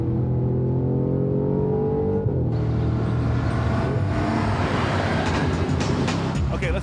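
A 2013 Audi RS5 engine drones steadily while driving, then shifts and the tone drops into a coarser, rising roar with road and wind noise, loud and close from inside the car.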